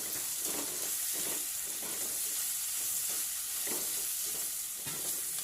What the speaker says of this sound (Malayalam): നമുക്കിതിലേക്ക് അരിഞ്ഞ് വെച്ചിരിക്കുന്ന വെണ്ടയ്ക്ക ചേർത്ത് കൊടുക്കാം.